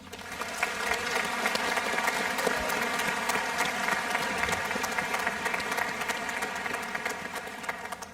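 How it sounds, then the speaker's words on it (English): A large commencement audience at Alfred University's 2025 ceremony applauds in a steady, even wash of clapping that holds for several seconds, with no voices over it. "Please join me in applauding them."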